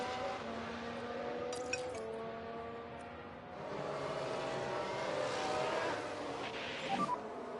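Race cars run on track in the F1 Manager 23 racing game, with a steady layered engine drone holding throughout, brief sharp bursts over it and a short dip in level midway.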